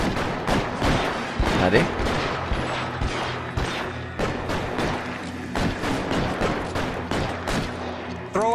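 Rapid bursts of gunfire from the video game L.A. Noire, sharp repeated shots and volleys throughout, with a player talking briefly over the shooting.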